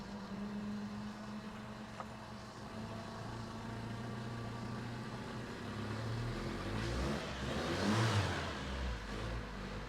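A turbocharged Toyota pickup engine cranks and fires with a relocated mass airflow sensor, settling into a low idle before building into a louder rev near the end, close by with no talking.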